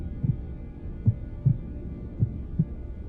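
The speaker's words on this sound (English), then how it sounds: "Nothing now but the sound of my heartbeat" Slow, deep heartbeat thumps pulse about five times in a dark horror narration, each low throb standing alone against a faint hum.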